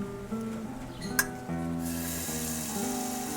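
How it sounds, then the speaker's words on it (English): Pork cheeks browning in hot fat in a pan give a steady, close sizzle and frying hiss, with a brief clink partway through and the crackle growing brighter. "We add a little more fat before browning the cheeks well on both sides."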